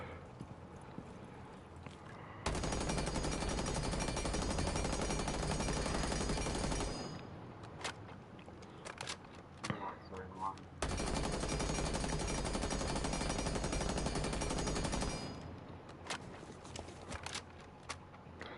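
Automatic gunfire from Rainbow Six Siege during recoil practice comes in two long, loud sustained bursts, each followed by quieter pauses with faint clicks and no talking.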